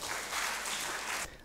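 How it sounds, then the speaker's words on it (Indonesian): Audience applause at an Indonesian book launch event in Samarinda, a steady broadband clatter of many hands for about a second and a quarter, then cutting off abruptly. "Tepuk tangan buat beliau."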